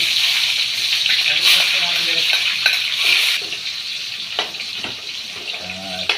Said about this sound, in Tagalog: lagay na po natin ang ating onion